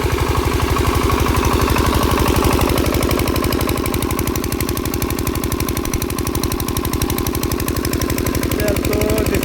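A secondhand Bharat Shakti diesel machine with new bearings runs steadily after starting, producing a loud, rapid, even chugging knock that continues throughout without speech.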